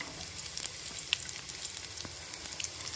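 Onion frying in a pan for a fresh mint and coconut chutney, a steady close sizzle running through the whole stretch with faint crackles and no talk.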